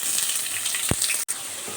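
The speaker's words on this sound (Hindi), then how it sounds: "तो अनियन को सौते कर लेते हैं" Onions sautéing in hot oil in a pan at home, a close, steady sizzle and crackle with a brief low thump and a short cut in the sound partway through, no talking.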